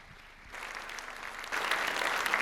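An audience at a Catholic diocesan synod materials presentation applauds a departing guest, the clapping swelling after a short quiet start and growing louder and fuller near the end, with no voices on top.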